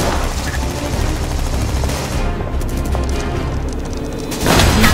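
Video-game gunfire in a large Minecraft war simulation with many players: a dense, continuous roar of shots and booms that swells louder at the end, with faint voices briefly in the mix.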